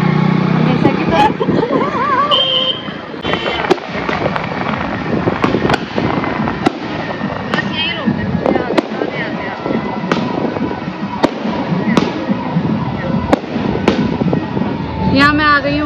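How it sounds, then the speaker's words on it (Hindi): Fireworks burst and crackle at night beside a wedding procession outside a wedding garden, with repeated sharp bangs and pops, some whistling rockets, and voices and crowd noise underneath. "घर आते ही आतिशबाजी का नज़ारा देखने को मिला"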